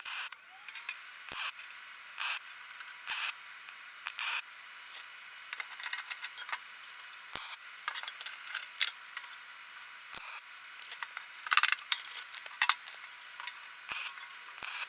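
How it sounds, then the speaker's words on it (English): A MIG welder tacks a steel welding cart with quick spot welds, each a short burst of crackling, sizzling hiss. A dozen or so bursts come in an uneven rhythm over a faint steady whine, with no talking. "I'm going to spot weld this. But I'm going to use the MIG welder on this."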